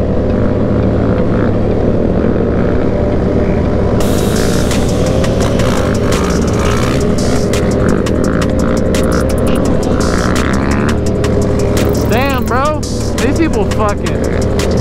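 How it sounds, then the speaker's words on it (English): Motorcycles at a stunt ride roar continuously close by as riders pull wheelies, engines revving and rising in pitch near the end, with a crowd talking and shouting throughout. "I'll sit here and record some wheelies."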